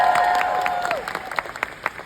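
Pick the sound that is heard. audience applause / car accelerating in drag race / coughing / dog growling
audience applause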